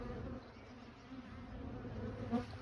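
Honey bees buzz around hives, a close, continuous drone with individual insects briefly passing nearer, no talk.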